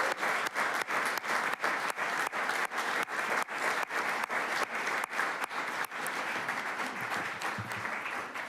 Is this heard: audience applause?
yes